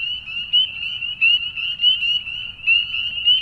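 Frogs call continuously in a restored wetland at night, a loud, sustained high trilling chorus that pulses in waves with no voices.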